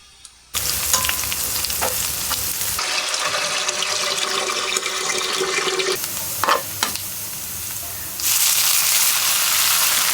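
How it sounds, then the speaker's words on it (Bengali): Garlic, onion and green chilli fry in oil in a home kitchen pan, a loud steady sizzle that holds for several seconds, shifts as the pan is stirred, and flares up again toward the end. "একটু বেশি করে রসুন, পেঁয়াজ, কাঁচামরিচ দিছি"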